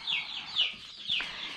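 Ducklings in a homemade PVC-pipe and plastic hardware-cloth brooder in a garage give three high, thin peeps about half a second apart, close by and clear, with no talking.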